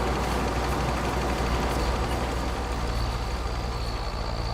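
A farm vehicle's engine in a farming video game runs with a steady, loud rumble and a faint ticking in it, continuous throughout with no talk.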